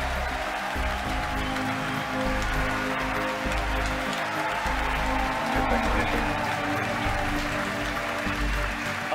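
Crowd cheering and applause during a SpaceX Falcon Heavy launch, a dense, steady roar of many voices and clapping that carries on for the whole stretch, with broadcast commentary voices mixed faintly into it.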